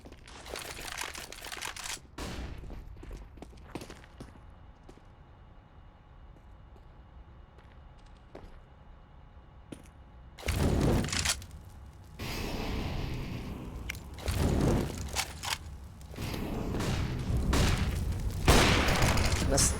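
Grenade blasts and bursts of gunfire in a CS match on the Overpass map: loud, sharp explosions and crackling shots in clusters, with a commentator talking throughout.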